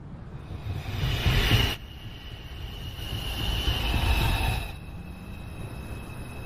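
A NYC Subway downtown express 2 train arrives at 215th Street, rumbling close with wheel squeal ringing in high steady tones and two surges of louder rolling noise as cars pass.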